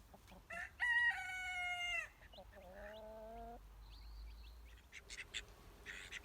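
Chickens, including chicks and a broody hen, share a yard with ducks, calling in a few distinct bursts: a loud drawn-out crow-like call early on, then quieter clucks and quacks over faint background noise.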